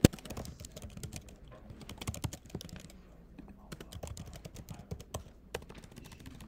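Rapid, irregular keystrokes as JavaScript code is typed on a computer keyboard, crisp close clicks in quick runs with brief pauses, no voices.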